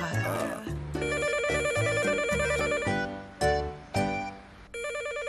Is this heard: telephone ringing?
yes